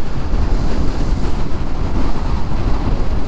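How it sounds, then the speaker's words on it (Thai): Strong outdoor wind buffets a microphone, producing a dense, continuous, roaring rumble that stays loud throughout with no voices. "ตอนนี้โอ้โหลมแรงมากทุกคน"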